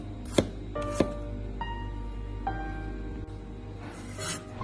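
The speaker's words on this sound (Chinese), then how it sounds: "将生姜切成薄片" A knife slicing peeled ginger into thin slices on a cutting board, a few sharp chopping knocks separated by pauses, close and clear with no talking.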